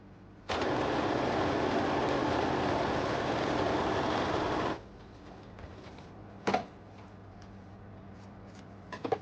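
A sewing machine straight-stitching oven glove fabric runs in one continuous, even burst of about four seconds, then stops, leaving quiet with a few brief clicks and handling knocks.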